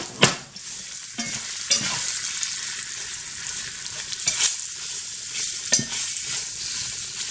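Flour-dusted lamb pieces for a spicy Indian stew sizzle steadily in a hot pan, with scraping and turning knocks from stirring now and then. The frying hiss stays loud and continuous throughout, and no one speaks.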